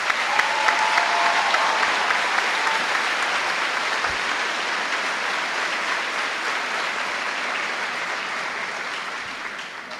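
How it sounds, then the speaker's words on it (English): An audience claps in sustained applause at a high school graduation ceremony, a dense, even wash of hands that holds for the full length and fades slightly toward the end, with no talking. "Congratulations, round of applause."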